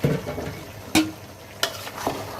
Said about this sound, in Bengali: মাথার মাংসগুলো ভালো করে কষাতে হবে এখন বুটের ডালগুলো দিয়ে দিব